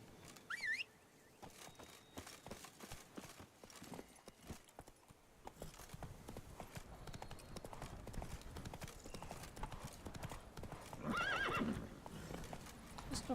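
A horse's hooves clip-clop in a steady rhythm as it is ridden through The Witcher 3, moderately close, with brief whinnies near the start and near the end.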